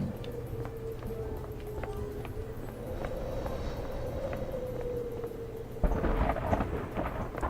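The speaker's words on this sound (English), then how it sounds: "And I hear thunder and wind up here." Thunder rumbles and wind blows in the Paradise Killer video game, a low continuous roar beneath a sustained tone, with a heavier rumble arriving near the end.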